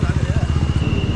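A motorcycle engine with its silencer removed runs close by, giving a loud, fast, throbbing exhaust pulse that stays even throughout the short stretch.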